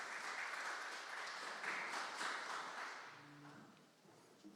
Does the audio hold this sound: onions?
no